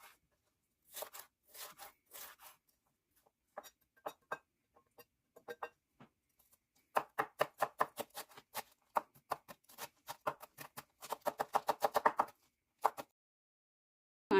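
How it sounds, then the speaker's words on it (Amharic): A chili pepper being finely chopped on a board, heard as quick, crisp knife taps in bursts, some spaced apart and others in fast rhythmic runs, close and clear with no talking. "አንድ ቃሪያውንም ልክ እንደዛው ልክ እንደ ሽንኩርቱ ደቀቅ አድርገን እንከትፈዋለን"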